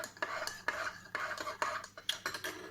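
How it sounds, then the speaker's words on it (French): A spoon stirs breakfast in a bowl as cereal is added, giving close, repeated clinks and scrapes against the dish in short bursts with no talking. "ensuite je mélange et je mets mes céréales tout simplement"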